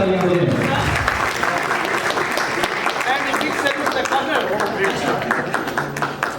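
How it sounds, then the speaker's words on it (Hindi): Loud, dense applause from an audience at the Nelson Mandela Nobel Peace Award 2021 ceremony, a steady roar of clapping that carries through the whole stretch. "सभी से रिक्वेस्ट करूंगा हर एक की जोरदार तालियां हो जाए।"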